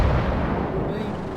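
A tank cannon fires and hits an enemy in World of Tanks, a heavy, booming blast trailing into a sustained low rumble that fills the whole moment, loud and dense.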